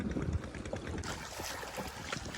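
A boat moves forward on a big river in strong wind and waves, giving a close, continuous rush of wind and water with slapping splashes against the hull.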